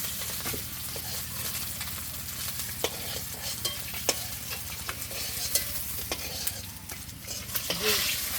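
Deshi stinging catfish (jiol) frying in hot oil in a village kitchen, a steady dense sizzle and crackle with scattered sharp pops of spattering oil, close and continuous throughout.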